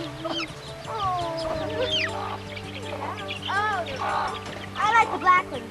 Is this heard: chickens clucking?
yes